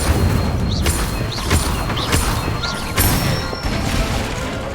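Incendio fire spell cast repeatedly in Hogwarts Legacy, a series of loud whooshing bursts with crackling impacts at roughly one-second intervals over a constant rumbling background.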